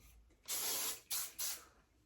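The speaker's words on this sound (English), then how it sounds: "let's finish off with some hairspray" Three quick hisses of Aussie Instant Freeze hairspray from an aerosol can onto hair, one longer burst followed by two shorter ones, close up.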